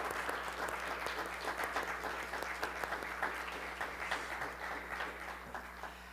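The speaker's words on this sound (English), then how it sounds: "we can clap. Absolutely." A congregation claps together at a Friday evening service, the applause faint and somewhat distant, continuing evenly for about six seconds over a low steady hum.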